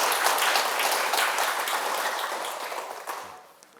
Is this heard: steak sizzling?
no